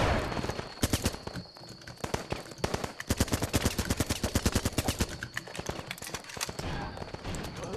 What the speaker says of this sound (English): who's that guy shooting me?